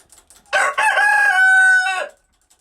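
A single loud rooster crow, nearby and clear, rising then holding before cutting off, with a few soft clucks just before.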